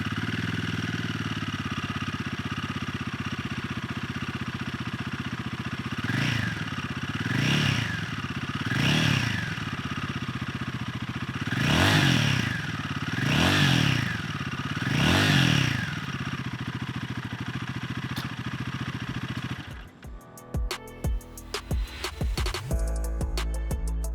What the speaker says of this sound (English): let's listen to what the motorcycle sounds like